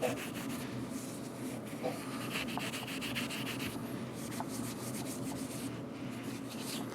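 A silicone-treated rag rubbed back and forth over the metal of a Colt handgun, a steady close scrubbing hiss that keeps going without a break and with no one talking.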